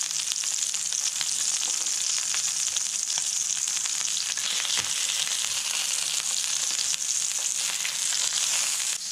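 A goose breast sears skin-side in a pan, giving a steady, moderately loud hiss of crackling fat that continues evenly throughout, with no voices.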